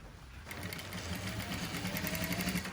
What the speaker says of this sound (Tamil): இந்த மாதிரி தைச்சிட்டு அதுக்கு பிறகு வந்து இதை அப்படியே மடித்து இன்னொரு தையல் நாங்கள் போடலாம்